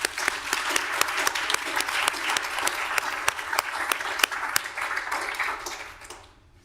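Steady audience applause during a city council meeting, a dense, sustained wash of clapping from a room of attendees at even loudness before fading out at the end.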